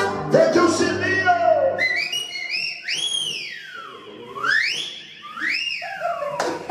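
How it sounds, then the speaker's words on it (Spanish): Someone whistles a flirtatious call in a lively melodic phrase of rising and falling swoops, loud and close, after a brief moment of other sound at the start. "Cuando paso caminando debajo de tu ventana, te echo un silbido."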